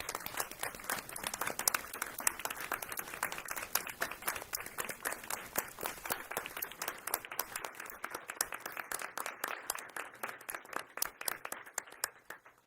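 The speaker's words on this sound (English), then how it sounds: "please just give another round of applause to our leaders of the pack who are here" Sustained applause from a seated audience at a regular board meeting honors the leaders of the pack, dense steady clapping of many hands that continues without pause before thinning out at the end.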